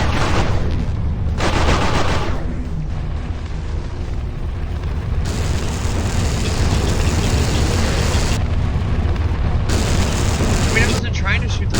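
Ship guns firing in the space combat game Everspace, a steady loud stream of booming blasts and rapid shots with a few brief pauses, while a voice talks over the din.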